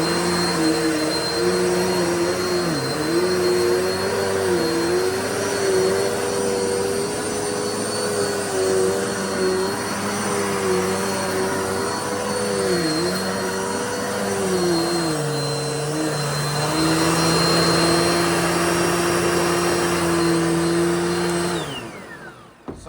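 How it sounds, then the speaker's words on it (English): Dirt Devil vacuum cleaner running steadily on bedroom carpet, a loud continuous motor whine whose pitch dips and rises as it is pushed back and forth, then cutting off at the end. "let's give this a little skim round the bedroom and see how we get on with the Dirt Devil there"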